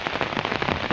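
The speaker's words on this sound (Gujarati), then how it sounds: "ફરી પાછો વરસાદ આવી રહ્યો છે" Rain falling steadily on a surface during a monsoon downpour, a dense continuous patter of drops close by with no voices.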